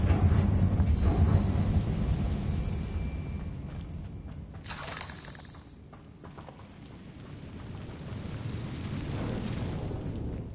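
Confringo fire-blast spell in Hogwarts Legacy: a deep, rumbling explosion with a heavy low-end roar that swells, dips midway, then rolls on again as a sustained boom.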